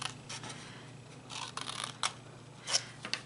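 Scissors snip through paper while a gift card holder tag is being made, a series of crisp, close cutting strokes in an uneven rhythm, some sharper and louder than others, with no voices.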